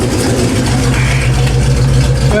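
A Pontiac 455 V8 under way on a ride-along, heard from inside the car as a loud, continuous low-pitched engine drone that holds steady throughout, with no talk over it.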